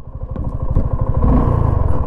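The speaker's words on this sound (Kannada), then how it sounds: "ಇಂಜಿನ್ ಸೌಂಡ್ ಈ ಥರ ಕೇಳಿಸ್ತಾ ಇದ್ದಾರೆ." Close, loud idle of a Suzuki V-Strom SX 250 motorcycle engine, a steady low thumping exhaust beat with light mechanical clatter and no voices.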